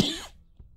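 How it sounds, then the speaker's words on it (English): A single sharp cough bursts out at the start and quickly fades, followed by a faint softer throat sound, close to the microphone. "I start recording and I start coughing."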